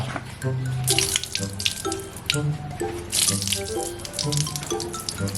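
Tap water runs and splashes while a polished part of a Wave 125S motorcycle is rinsed: a steady, close rushing and spattering stream with irregular drips and splashes.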